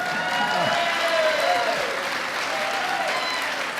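An audience at a memorial gathering applauding, producing a loud, dense wash of clapping that holds steady throughout.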